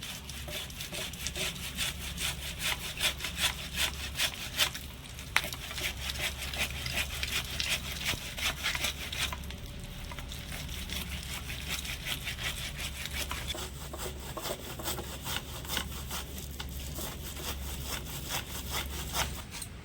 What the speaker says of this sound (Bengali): এবারে একটু গ্রেটারের সাহায্যে এভাবে করে ঘষে নেবো